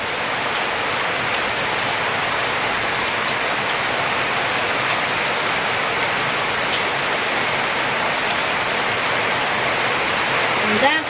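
Heavy rain pours steadily and loudly for the full stretch, a dense continuous hiss with no pauses, during a storm strong enough to wreck an outdoor kitchen shelter.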